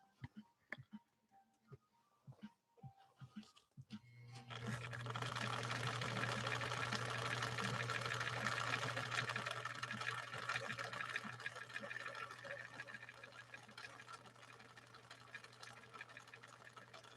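A 1961 Viking sewing machine fitted with a revised cam C runs a steady, continuous stitch in Sulky 40 weight embroidery thread, starting after a few seconds of soft ticking and clicks and then whirring loudly and evenly.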